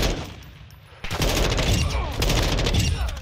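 Sustained automatic gunfire in Call of Duty DMZ, loud dense bursts of rapid shots that swell after a quieter opening and run continuously to the end.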